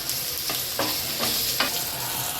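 Continuous hissing sizzle of chopped plantain frying in a pan, with a few soft stirring scrapes as pieces are moved around.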